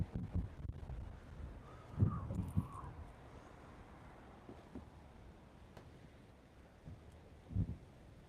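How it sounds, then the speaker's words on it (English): Wind buffets an external microphone outdoors in Corpus Christi, Texas, giving low rumbling gusts that swell in several bursts over a faint background. "I'm facing right into the wind, and it's pretty windy"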